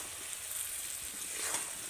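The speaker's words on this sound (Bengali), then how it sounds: "আরও কিছুক্ষণ কিন্তু আমি কড়াইতে এইভাবে নাড়তে থাকবো" Raw mango pickle being stirred in a kadai: a soft, steady sizzle with faint scraping of the spoon, quiet and close with no talking.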